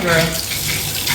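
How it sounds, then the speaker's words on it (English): Water gushing loudly from a hotel room sink tap on Koh Phangan, Thailand, a close, continuous rush with someone speaking briefly over it. "Water just had to get to the pipe,"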